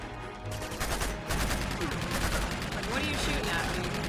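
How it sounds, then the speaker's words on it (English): Gunfire from the video game Uncharted 2: Among Thieves, a dense run of rapid shots and bursts that continues steadily under the game's background sound. "I'm still confused at what he's shooting at."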